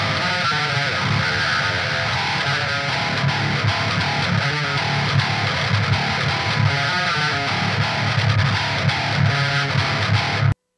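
Distorted electric guitar played through a software-only signal chain captured with STL ToneHub, a thick overdriven tone with chords and riffs ringing steadily and loudly for about ten seconds before cutting off abruptly.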